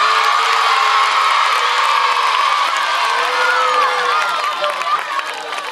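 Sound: schoolchildren applauding and cheering for a football player

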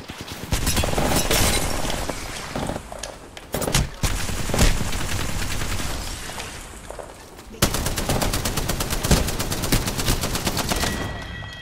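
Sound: gunfire in the video game Apex Legends

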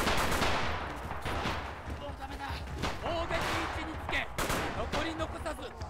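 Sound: Type 100 submachine gun firing in Rising Storm video game

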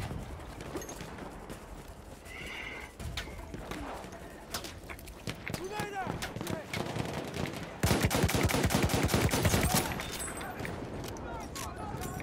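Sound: gunfire in Battlefield 1 video game

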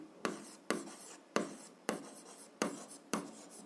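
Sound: writing on paper during algebra exercise

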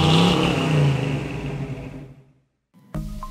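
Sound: 2019 Toyota Corolla SE driving and accelerating

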